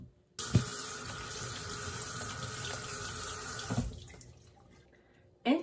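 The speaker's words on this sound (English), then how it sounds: "Now, rinse the cucumber." Cucumber being rinsed under a running kitchen tap: a steady, close stream of water splashing into a sink for several seconds, then cutting off, with a couple of brief knocks at the start and end.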